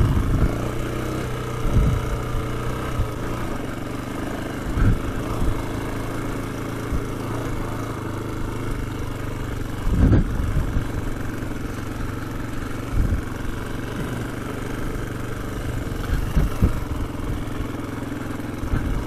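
A Honda XR250R dirt bike engine runs steadily on the Ridgeway green lane in the UK, a continuous low, rough drone with a few brief revs and bumps, no talk over it.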